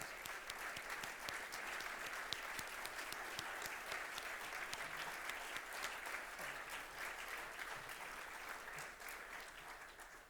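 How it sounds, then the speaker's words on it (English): Steady applause from a gala audience honoring the HSAC team, a dense, even wash of many hands clapping at a fairly low, distant level that holds for about ten seconds before easing slightly at the end. "So everyone at HSAC, please stand up for a round of applause."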